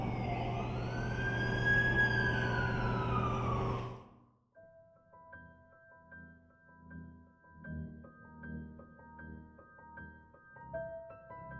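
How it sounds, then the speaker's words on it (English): Ambulance siren in The Amazing Spider-Man 2 video game, a loud wailing sweep for about four seconds that cuts off, followed by quieter tonal game music. "That's the ambulance I called."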